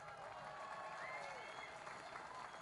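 Applause from a large crowd at an oil and gas rally in Canada, a steady, dense wash of clapping that holds at the same level throughout.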